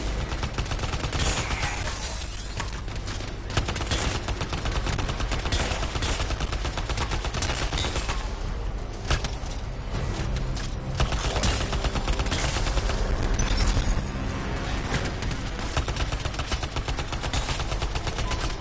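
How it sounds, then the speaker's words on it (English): Gunfire from the Defender gun in the video game Anthem rattles off in dense rapid bursts, nearly continuous and loud across the whole stretch, with blasts and impacts layered beneath. "Let me just get these headshots so I can upgrade my mastery for the defender, I guess it's called, this gun"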